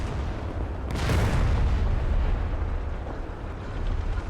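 An sIG infantry gun shell striking a KV-2 tank in Gates of Hell, a sharp impact bursting into a heavy rumbling explosion that rolls on and slowly fades, with no talk over it.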